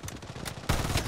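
Rapid gunfire in the Farlight 84 battle game, quicker shots at first, then a louder, denser burst of firing toward the end, heard up close with no voices.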